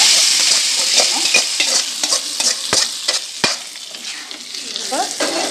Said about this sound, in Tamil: இப்போ வந்து இதை கீரை வேக வச்சு போட்டுக்கணும்